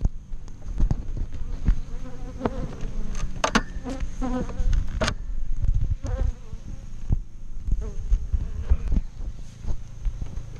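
Angry honeybees buzz around beehives, a continuous swarming drone close to the microphone with individual bees whizzing past and occasional knocks and bumps.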